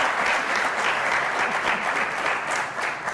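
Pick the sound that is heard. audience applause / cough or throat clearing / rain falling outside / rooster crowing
audience applause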